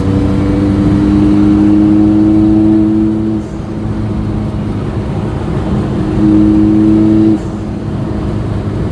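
A loud, rough straight-piped diesel engine of a Mk1 Volkswagen Golf with a PD130 engine drones and rises in pitch twice with revving, then settles, close and unmuffled.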